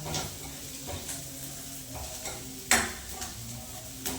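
Onions fry with salt and chili in a pan, a close steady sizzle broken by a sharp metallic clink of a utensil against the pot and a few lighter taps.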